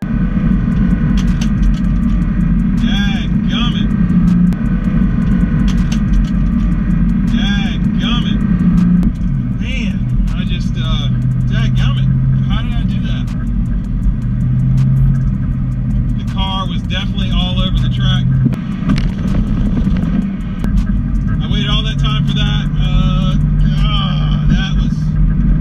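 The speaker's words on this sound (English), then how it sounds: "I missed third gear, went back into first, and that's why the car was shaking so bad." A Ford Fox Body Mustang drag car rumbles loudly and steadily from inside the cabin after a missed shift to third gear, its engine drone continuous with a voice talking over it.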